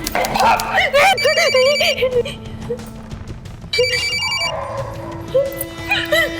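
A telephone rings in two bursts while people talk and someone whimpers or cries loudly nearby.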